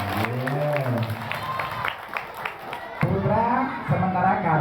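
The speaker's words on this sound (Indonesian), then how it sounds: "Tepuk tangan yang putri." Girls in an audience at an Isra Mi'raj storytelling and magic show clap together, a burst of applause mixed with a voice talking loudly over it and some chatter.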